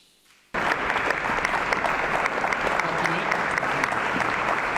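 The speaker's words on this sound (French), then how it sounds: "vous plaît d'applaudir Virginie Bianchini." After a brief quiet moment, sustained applause breaks out from an audience, dense and steady clapping filling the room.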